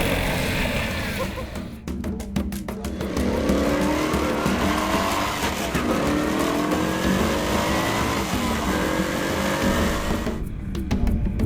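Several motorcycles ridden together in a coordinated handling exercise, engines revving and rising and falling in pitch continuously, loud and close with overlapping passes.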